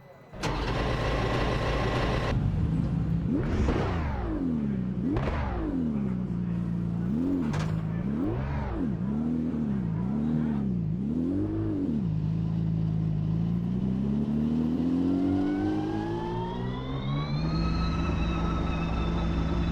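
A race car in the Automobilista 2 racing game cranks and fires, its engine note rising and falling through several revs before settling to a steady idle and climbing again at the end.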